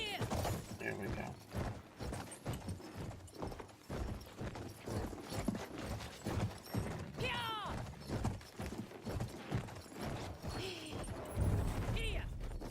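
Horse hooves clip-clopping in the World War I shooter Battlefield 1, a quick, rhythmic run of hoofbeats heard alongside gunfire, game noise and a player talking.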